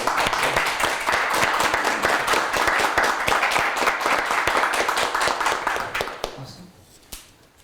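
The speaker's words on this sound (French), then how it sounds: "une main d'applaudissement pour Renaud" Steady, dense applause from attendees at a small-town municipal council meeting in Quebec, continuous clapping for several seconds that fades out, leaving a few scattered final claps.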